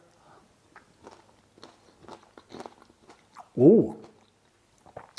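Close, soft chewing and small crunches of a cucumber salad with pomegranate, tomato and apple cider vinegar dressing, scattered quiet bites with a brief vocal exclamation partway through.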